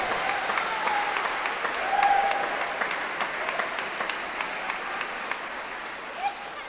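Steady applause from an audience at a spiritual talk, moderate and even in level with a few brighter claps and a short swell near the two-second mark, without pause throughout.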